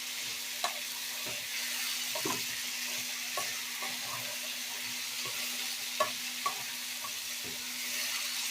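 Potatoes and chicken stir-fry in a pan with a steady, hissing sizzle throughout, punctuated by irregular light scrapes and clicks of a stirring spoon, close and continuous.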